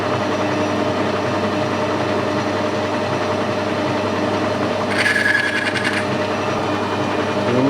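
A metal lathe takes a roughing cut, giving a steady, loud mechanical whir and grinding hum, with a brief higher scraping layer partway through.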